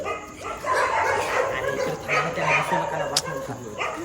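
Dogs bark and yip several times at night at moderate distance while people talk over them.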